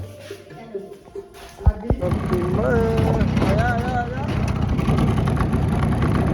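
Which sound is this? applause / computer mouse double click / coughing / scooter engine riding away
scooter engine riding away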